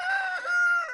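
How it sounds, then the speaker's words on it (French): A farm rooster in Saint-Sylvestre, France, crows loudly and close by in a single sustained, bright call with no other sound around it. "ses voisins là qui sont pas contents du chant de mes coqs"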